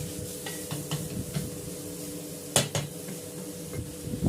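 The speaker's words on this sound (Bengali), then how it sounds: "সবগুলো একসঙ্গে মিশিয়ে দিচ্ছি" Noodles and vegetables are stirred in a pan for a quick vegetable egg noodle dish, producing scattered scrapes and clinks of the utensil against the metal over a faint steady hum, with one sharper knock partway through.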